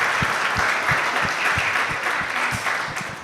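An audience gives a final round of applause after a general lecture on science and engineering, steady dense clapping with a few sharper claps standing out, holding level before easing slightly at the end.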